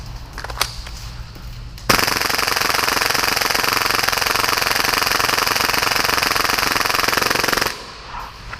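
A full-auto Hi-Capa airsoft pistol fires at about 30 rounds per second in one long, loud burst of rapid mechanical cycling lasting nearly six seconds, with brief clicks before and quiet after.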